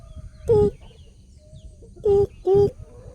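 Three short, hollow calls of a young alimukon dove sound close by, one alone and then a quick pair, over a quiet low rumble.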